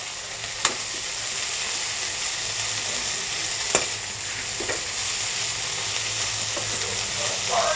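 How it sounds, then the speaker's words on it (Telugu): Brinjal frying in oil with dried prawns, giving a steady, close sizzle throughout with a few sharp clicks of a spoon stirring the pan. "మనం కొంచెం సేపు దీన్ని ఫ్రై చేసుకోవాలన్నమాట."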